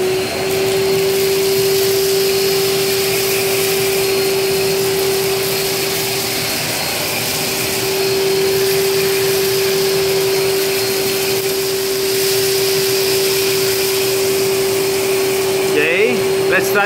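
A Parkside PNTS 1500 C4 wet and dry vacuum cleaner runs in blowing mode, giving a loud, steady motor whine and rush of air that holds throughout, with a brief dip midway and some handling noise near the end.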